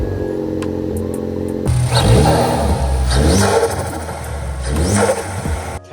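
A car engine with a catless downpipe exhaust revs hard and close, a loud raspy roar rising and falling through two throttle blips after a brief rumbling idle.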